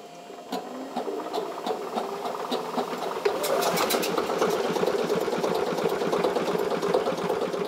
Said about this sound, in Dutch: Om te kijken of alles nog werkt, laten ze de motoren draaien.